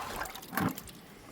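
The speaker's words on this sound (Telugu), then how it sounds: "ఇప్పుడు వాటర్ ఇచ్చేద్దాము" A short splash of water poured onto soil over freshly sown seeds, a brief burst in the middle of a quiet, soft background.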